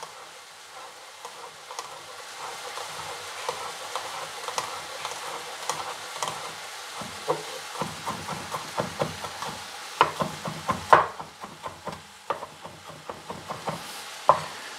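Onion frying in a pan while being stirred, with a soft constant sizzle under frequent scraping and tapping of a utensil that grows busier and louder toward the end.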